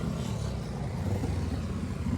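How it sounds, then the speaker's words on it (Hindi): A car idling close by, its low steady engine rumble filling the short stretch with no talk over it. "ये हमारी गाड़ी है।"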